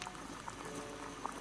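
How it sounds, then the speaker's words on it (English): A kettle of water comes to the boil on a gas burner in the PS4 game Sherlock Holmes: The Devil's Daughter, giving a faint, steady bubbling hiss with a few soft pops. "Boil water in kettle."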